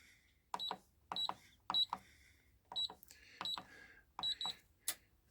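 Sussex 100K digital safe keypad gives a string of short, sharp electronic beeps as a code is keyed in, spaced in quick pairs, then a final higher tone as it unlocks, with soft mechanical clicks under each press.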